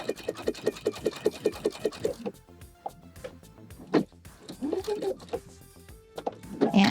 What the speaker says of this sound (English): we're going to do is sew the ends together on these facing pieces